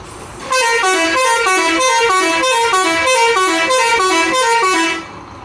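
A bus horn blares in a long, loud, close melodic run of repeating tones at the Kalasipalya bus stand, starting abruptly and cutting off after about four and a half seconds.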